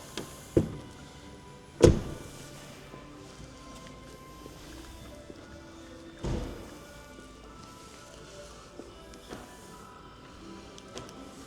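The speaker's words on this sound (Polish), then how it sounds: "Tym tutaj dotykowym przyciskiem zamykamy samochód." A Kia K4 Kombi GT Line 1.6 T-GDI is locked with the touch button on its illuminated door handle: a few short, sharp clunks and thumps of the locks, close, over quiet outdoor background.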